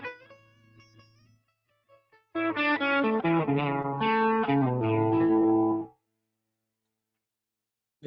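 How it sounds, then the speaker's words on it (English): Guitar chords through a Helix processor ring out with heavy ambient effects, then on switching to a lead sound the notes cut and reverb and delay tails linger and fade into silence. "we're going to hear now how all those reverb and delay trails kind of linger on after I switch."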